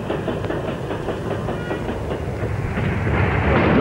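A Class 31 diesel locomotive rolls steadily along the rails with a loud, continuous rumble and faint rhythmic clatter that builds slightly toward the end, with no voices.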